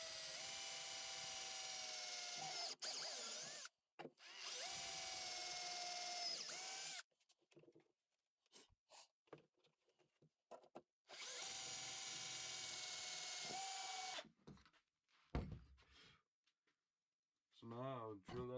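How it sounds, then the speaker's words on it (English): An electric drill whirs in several loud bursts of a few seconds each, drilling holes in knife handle scales, separated by short pauses with clicks and handling noises. "So now I'll drill out the holes"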